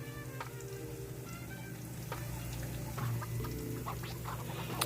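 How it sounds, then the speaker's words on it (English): Fish for a keto recipe frying in hot oil, a quiet steady sizzle with small pops and crackles scattered across it. "Once it starts frying, just let it fry and it will be just fine."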